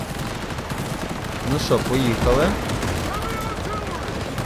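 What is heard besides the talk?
gunfire between enemies in video game Cyberpunk 2077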